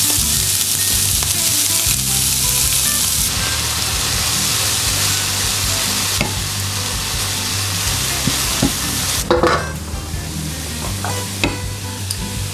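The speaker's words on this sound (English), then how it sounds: "I'm going to carefully just give the vegetables a quick saute." Diced onions and vegetables for a Persian koo koo sabzi sauté in olive oil in a pan, making a loud, continuous close sizzle with a few stirring clatters and scrapes partway through, with no talking.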